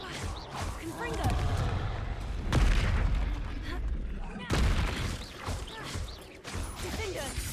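Repeated Confringo fire-blast spells in the Hogwarts Legacy video game, loud booming explosive bursts with sharp onsets around 2.5 and 4.5 seconds over a busy combat din, with game voices heard in the mix.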